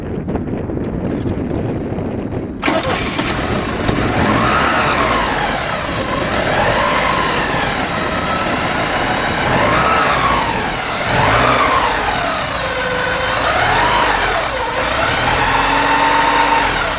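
A 1983 Porsche 944 in Guards Red with its original engine cranks over and fires, then settles into a steady idle with slow rhythmic rises and falls in pitch, loud and close with wind buffeting the microphone.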